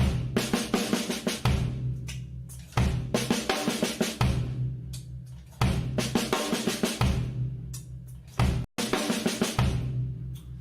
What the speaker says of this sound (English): it's 2 singles and then an accented left paradiddle